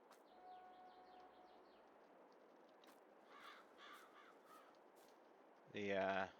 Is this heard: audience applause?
no